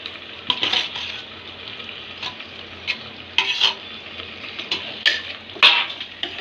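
Mutton being mixed with curd in a pot for hotel-style biryani, with a spoon scraping and clinking against the metal in irregular strokes, close and fairly loud over a faint background hiss.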